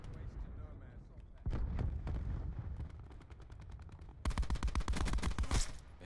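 Light machine gun fire in Black Ops 4, coming in bursts of rapid, loud shots, with a sustained final burst of evenly spaced rounds, amid game noise and a voice speaking over it.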